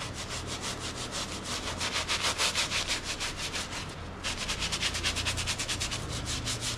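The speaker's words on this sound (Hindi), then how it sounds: "And then you have to brush it." A brush scrubs foam back and forth across a surface during cleaning, a rapid rhythmic rubbing rasp that runs loud and close, pausing briefly midway before resuming.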